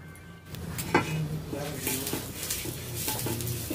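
A cut potato skewered on a knife is rubbed around a pan to spread oil, giving soft scraping and light clinks of metal against the pan, close and fairly quiet.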